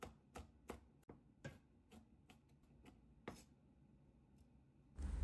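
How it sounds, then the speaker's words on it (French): A knife chops a hot chili pepper on a cutting board for a Vietnamese stir-fried beef noodle sauce, giving a series of quiet, close, irregular taps, with a louder rustle at the end. "Je coupe le piment fort pour ma sauce."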